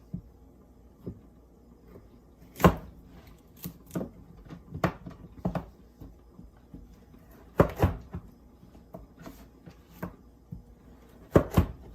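Knife chopping vegetables into big chunks on a cutting board, sharp irregular thuds and clacks spaced through the stretch, some louder strikes standing out, with no talking.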